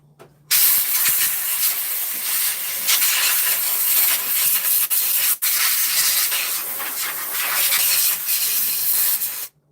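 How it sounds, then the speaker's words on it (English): Air compressor nozzle blasting a filter chamber clean: a loud, steady rushing hiss that starts abruptly, drops out briefly midway, then resumes and cuts off near the end. "then I'm going to blow it out with the air compressor here."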